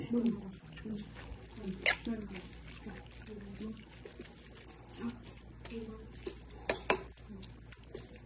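Papaya atsara (pickle) being stirred in a bowl, giving soft wet sloshing and a few sharper clinks near two and seven seconds, under steady talking.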